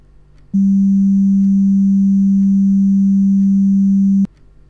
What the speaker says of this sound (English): That's the worst well done noise ever.